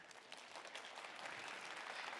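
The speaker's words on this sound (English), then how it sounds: "And there you can hear the applause." Audience at a heyball billiards grand masters final applauding, a short, fairly faint patter of clapping from the crowd, steady and diffuse with no speech on top.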